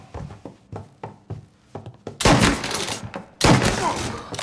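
Gunfire in the video game Mafia: Definitive Edition, a string of sharp evenly spaced shots giving way to two loud, dense bursts of fire, with no voices in between.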